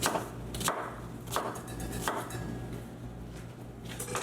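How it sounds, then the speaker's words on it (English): A knife slices a large onion in half on a cutting board in a home kitchen for rustic Sicilian caponata, giving a few sharp, close chopping knocks spaced about a second apart over a steady low hum. "So this is a fairly big onion. I'm just going to cut this in half."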